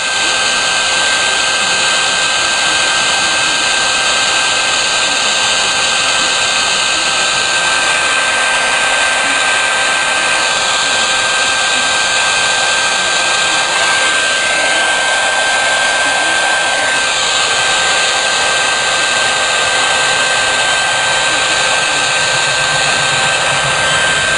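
A heat gun blows hot air in a loud, unbroken whoosh, held close and steady throughout with a faint high whine riding on top.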